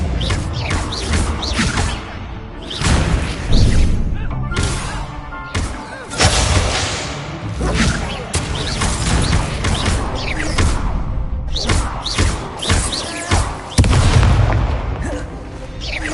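Spells cast in combat in the Hogwarts Legacy video game: a dense run of booming magical blasts, bursts and crashes, loud and close, firing in rapid irregular succession with little pause.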